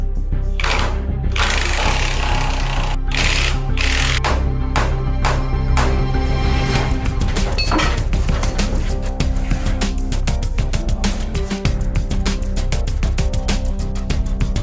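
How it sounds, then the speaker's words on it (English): Work on removing the front axle of a 1980 supercar during a restoration brings dense mechanical clatter and rapid tool bursts, with sharp metallic knocks and whirring sounding close and continuous. "it was time to get this front axle off"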